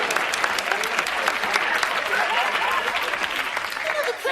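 Studio audience applauding during a sketch comedy television show, a dense, sustained burst of clapping that fills the whole stretch at steady loudness with no talk over it.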